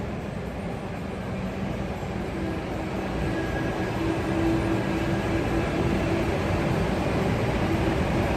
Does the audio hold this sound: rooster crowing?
no